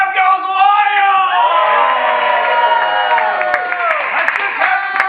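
An audience at an improv comedy class graduation show cheers and whoops wildly, a loud, sustained wall of shouting voices at close range without a pause.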